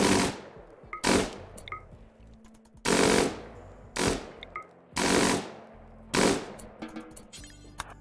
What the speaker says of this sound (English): let's go ahead and shoot some of these hives. Quick little bursts.